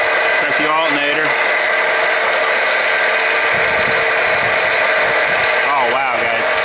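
Running car engine heard up close near the alternator, a loud steady mechanical whir and hum with a whining, rattling tone, and a voice speaking over it at times.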